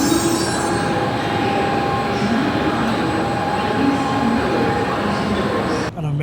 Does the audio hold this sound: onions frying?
no